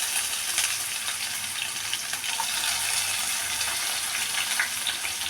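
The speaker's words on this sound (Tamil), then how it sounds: "காஞ்ச மிளகாய் போட்டிருக்கேன். காஞ்ச மிளகாய் கொஞ்சம் செவந்த உடனே வெங்காயம், சின்ன வெங்காயம்," Dried red chillies and small shallots frying in hot oil, a steady close sizzle and crackle throughout with no talking.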